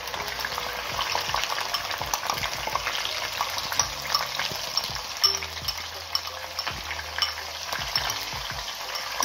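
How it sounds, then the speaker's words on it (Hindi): Ground onion fries in a pan with browning garlic ginger paste, a constant close sizzle broken by frequent spoon scrapes and clatters against the pan, with no talk. "लहसुन अदरक का पेस्ट ब्राउन हो चुका है, अब हम इसके अंदर प्याज ऐड करेंगे।"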